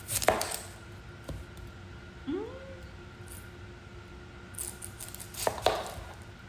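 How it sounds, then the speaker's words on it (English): A knife cuts half an onion into big chunks on a board, giving a few sharp separate chops at the start, around the middle and near the end, with quiet kitchen room tone between them. "I'm gonna cut half an onion in big chunks"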